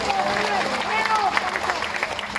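At a political rally, a crowd claps and murmurs in a steady, fairly loud wash of applause, with a voice carrying faintly over the noise.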